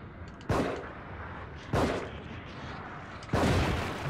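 Three heavy grenade blasts in The Evil Within, each a sudden broadband boom with a long rumbling tail, spaced about a second or more apart over a steady low background.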